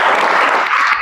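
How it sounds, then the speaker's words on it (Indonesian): A high school class applauds a classmate during an Islamic studies lesson, a brief dense burst of many hands clapping close by, with no talk. "Tepuk tangan buat teman kita."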